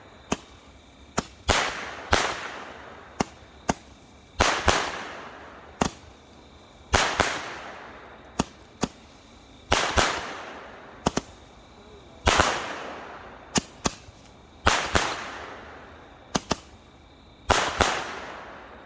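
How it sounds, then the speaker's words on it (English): Megabanger 10 ball Blue Thunder fireworks, a multi-shot aerial that fires blue stars with loud bangs: a long run of sharp, loud reports arrives in uneven clusters, each crack followed by a brief decaying echo. "Tonight we're going to do Megabanger 10 ball Blue Thunder. Performance is blue stars with loud bangs."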